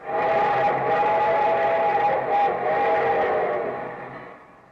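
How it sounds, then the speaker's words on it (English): A steam locomotive whistle sounds the signal for approaching a public grade crossing: one long, loud, steady tonal blast with a brief dip partway through, holding for several seconds before it fades out. "that's the signal a locomotive engineer blows when approaching a public grade crossing"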